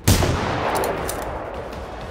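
A single sharp gunshot from the video game Generation Zero, loud and close, with a long rumbling tail fading over a couple of seconds and no talk.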